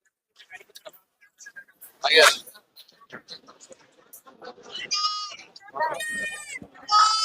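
Goat kids bleat in several short, fairly loud calls amid a busy livestock market, with people talking in between.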